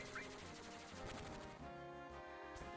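Rapid gunfire from a bird enemy in Final Fantasy 7, a dense burst of repeated shots that fills the clip loudly with no talking.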